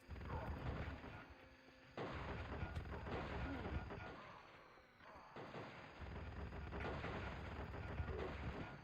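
Heavy gunfire in the video game Turok Evolution, booming shots in dense bursts separated by short pauses, loud and up close, with game sounds layered underneath.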